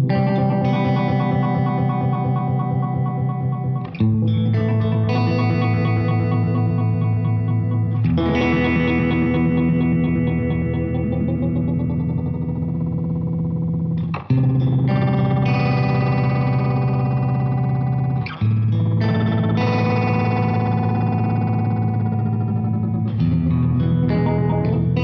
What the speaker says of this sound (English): The first harmonizer mode is called the dual, which sounds like this.